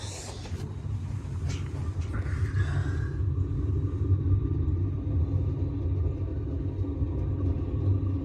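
A homemade waste oil burner runs on straight oil, giving a steady low roar and rumble that holds throughout, with a brief hiss and crackle near the start.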